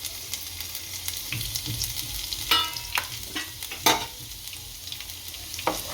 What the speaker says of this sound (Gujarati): આપણું તેલ ગરમ થઈ ગયું છે તો આપણે એમાં લસણ નાખશું